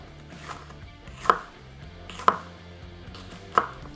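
A knife chops a jalapeno on a cutting board for fajitas, making three crisp, evenly spaced thuds over faint background hum.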